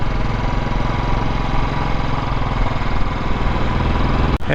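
Motorbike engine droning steadily while riding along a hill road in West Bengal, a continuous close mid-pitched hum with wind rush and no talk, ending in a brief dip.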